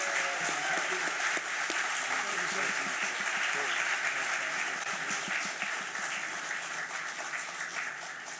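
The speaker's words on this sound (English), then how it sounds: "Let's give them a round of applause" An audience claps at a university school of social work groundbreaking ceremony, a steady, moderately distant round of applause that holds for several seconds and slowly tapers off toward the end.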